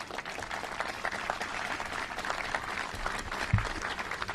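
Audience applause at a governor's bill-signing event on clean energy, a steady wash of clapping from a crowd in a hall, moderately distant, with one louder thump near the end.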